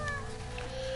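A single short meow from a cat in the Hollow Knight game, a brief tonal cry heard clearly over a low game backdrop.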